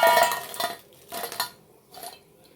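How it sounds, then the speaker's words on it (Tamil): Crispy fried spiral potatoes on a plate, three short bursts of brittle crackling and clinking, close and fairly loud with quiet gaps between. "பார்த்திங்களா எவ்வளோ முறுமுறுன்னு சவுண்டு,"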